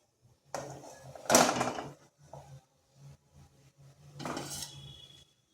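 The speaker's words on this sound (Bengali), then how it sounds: "এরপর থালাটা বসিয়ে দিচ্ছি" A metal plate set on a stand inside a pan of hot water makes close clanks and scrapes in two separate bursts, with quieter rattles between them.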